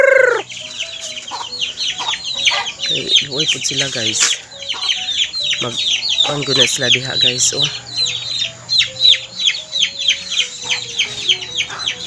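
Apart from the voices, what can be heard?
chickens clucking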